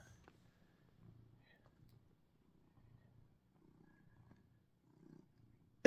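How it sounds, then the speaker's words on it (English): Soft, low rumbling purr from a cat up close, coming in faint repeated waves with quiet gaps, ending in a brief loud burst. "Can you purr for the people?"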